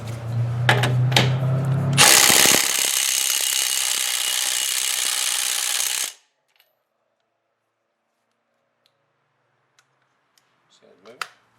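A Milwaukee M18 FUEL impact driver tightening a nut, a loud sustained rattling hammer burst lasting several seconds after a short lower whir, then cutting off into near silence.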